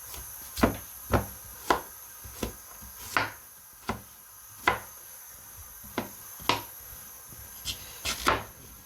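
A knife cuts peeled yam into pieces on a board. About a dozen sharp, separate chops land at an uneven, unhurried pace, close and fairly quiet.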